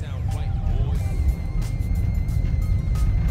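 VW Touareg 3.0 driving in third gear at about 1000 rpm, a steady low engine drone with road rumble, continuous and close throughout.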